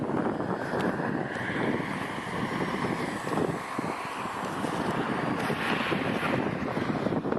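Remote-controlled plane flying overhead on a windy day, its buzzing engine drone rising and fading under heavy, steady wind rumble against the microphone, with no voices.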